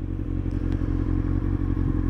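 A Honda CBR929RR motorcycle ridden on roads around an island in St. Paul, Minnesota, gives a steady loud engine drone with low rumble, with occasional clatter and thumps from the ride throughout.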